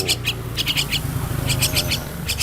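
A myna bird (jalak kebo) gives repeated sharp, bright chirping calls in quick clusters, with a low rumbling background beneath.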